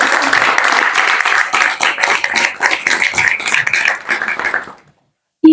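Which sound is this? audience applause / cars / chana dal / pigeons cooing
audience applause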